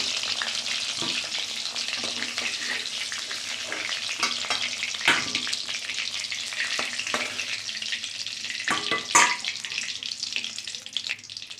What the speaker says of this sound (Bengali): ডিমটা হালকা ভেজে নিয়েছি, এবার নামিয়ে দেবো।